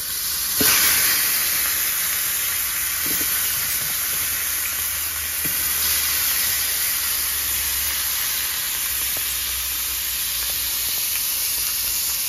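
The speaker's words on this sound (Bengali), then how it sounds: "তো আমি মাছগুলো ভাজি করে নেব," Fresh tilapia fish fry in hot oil in a pan, giving a steady, close sizzling hiss that carries on without a break for about twelve seconds, with no talking.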